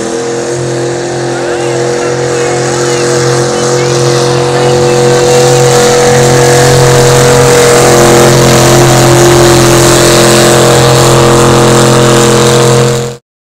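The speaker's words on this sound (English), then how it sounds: "Small block division, so not the super big trucks, but they still make a lot of noise." Small block division trucks rev their engines at a small-town summer truck event, a loud, sustained, droning roar that builds and holds steady before cutting off abruptly, with voices faintly underneath.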